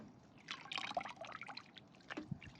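Close, quiet water noises as water is sprayed on succulent plants and soil: drips and a light spraying trickle, with irregular bursts of liquid hitting surfaces. No talking.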